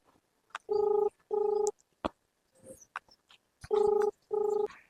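A telephone ringing in repeated electronic bursts, two pairs of steady buzzing tones separated by a gap, with small clicks and faint voices in between.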